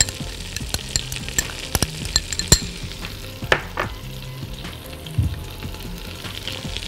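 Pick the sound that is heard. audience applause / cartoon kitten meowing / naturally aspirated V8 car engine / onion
onion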